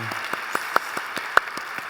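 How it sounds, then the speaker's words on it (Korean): Church congregation clapping in rhythm during a Korean worship service, a steady slow beat of many hands in unison, moderately loud in a reverberant sanctuary. "축복과 사랑의 박수를 드리겠습니다"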